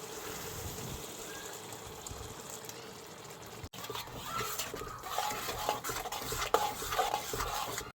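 Eggs dropped into hot coconut oil in a pan: quiet background noise, then an abrupt shift to a crackling, sputtering fry with clicks, close but fairly soft.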